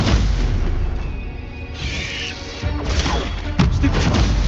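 Stupefy spell impacts in the video game Hogwarts Legacy land as booming, crashing hits, several in succession across a few seconds, loud and close over a steady game soundscape.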